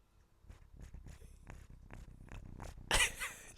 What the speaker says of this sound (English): She's purring down the mic.